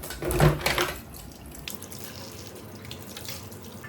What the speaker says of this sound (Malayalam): നമുക്കിനി കല്ലുമ്മക്കായി ക്ലീൻ ചെയ്യാൻ തുടങ്ങാം നന്നായി വാഷ് ചെയ്യണം